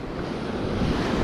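Ocean surf rolling steadily onto a beach near a creek mouth, a continuous broadband wash of breaking waves with wind buffeting the microphone, no voices.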